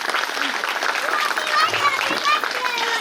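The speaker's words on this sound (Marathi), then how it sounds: "एकदा या बापलेकांसाठी एक जोरदार टाळ्या होऊन जाऊ" A wedding audience claps for a father and son, a dense, sustained wash of applause running beneath a voice speaking over it.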